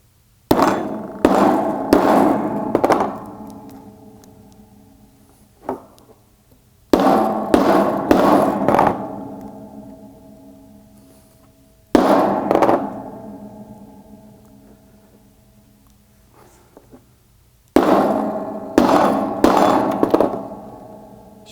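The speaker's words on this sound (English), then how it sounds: "I'm going to take that same piece of aluminum and I'm going to smash it as small as I can get it" A piece of aluminum is smashed with heavy hammer blows, loud metallic clanging strikes arriving in quick bursts of several hits separated by pauses, close and alone without talk.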